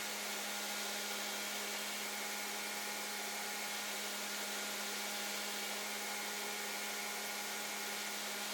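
A motor whines at a constant pitch throughout, a steady mechanical drone of a bench grinder running without pause while finishing the handles of a Nitro V steel chef's knife.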